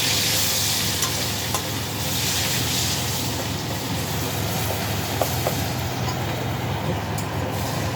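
Butter sizzling in a hot pan, a continuous bright crackling hiss with a few small pops and clicks, steady and close throughout with no talk.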